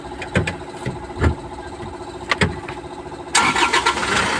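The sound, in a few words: Isuzu Travis diesel engine starting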